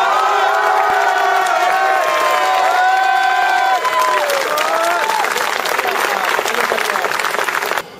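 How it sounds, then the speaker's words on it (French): A large crowd applauds loudly and continuously, with cheers and whoops mixed in, before the clapping tapers off at the end. "Je voulais qu'on applaudisse très fort Arnaud Courson qui a remporté."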